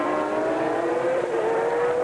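A 1998 FIA GT race car, a Mercedes among the field, howls past at racing speed, its engine note a sustained high whine that rises steadily, loud and close, with no voices.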